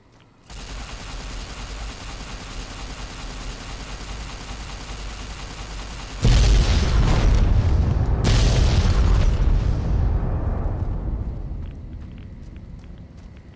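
Rocket explosion in Fallout New Vegas, a steady game ambience broken by a sudden deep booming blast that rumbles, flares again a couple of seconds later, then fades out slowly.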